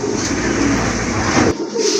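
Pigeons coo softly in a bird market pen amid a steady low background hum, a short burst of murmuring calls close by.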